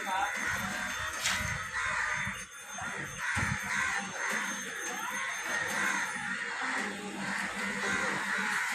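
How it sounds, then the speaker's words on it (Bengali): A flock of crows caws repeatedly outdoors, harsh calls overlapping in a steady, busy chorus, fairly near, while a person talks over them. "ওই যে ঘন্টু কত কাক"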